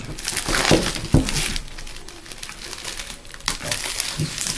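Plastic shrink-wrap being crinkled and torn off a Horus Heresy Betrayal at Calth board game box, a continuous close rustle with a few sharper crackles and snaps, no talking.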